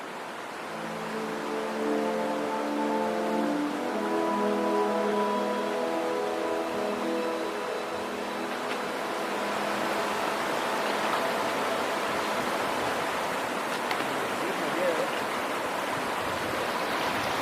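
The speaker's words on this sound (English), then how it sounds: "Here's the river down in the valley" A river rushes steadily down in a valley near an old Victorian-era barite mine, a continuous broad wash of flowing water, with a passing engine-like drone early on.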